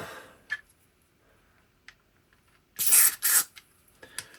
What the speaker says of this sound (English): I'm going to give that a blast of cleaner